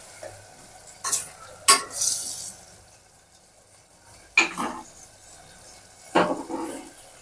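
Brinjals frying in hot oil with a soft steady sizzle, broken by several sharp scraping and clanking stir strokes of a spoon against the pan, each burst loud and close.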